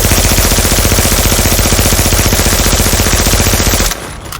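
Sustained automatic weapon fire in the shooter game The Division, a rapid, evenly spaced burst of loud close gunshots lasting nearly four seconds before cutting off abruptly.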